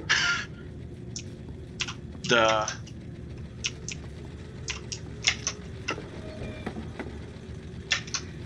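Keys on a computer keyboard clicking during play of the game Little Nightmares, sparse quick taps spread through the moment, while a voice speaks briefly at the start and again shortly after.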